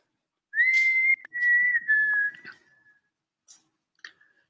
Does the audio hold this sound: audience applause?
no